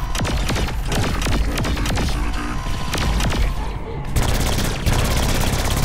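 Rapid gunfire in Saints Row IV, loud overlapping bursts of automatic shots and single cracks in dense succession, nearly continuous with a brief lull before the shooting resumes.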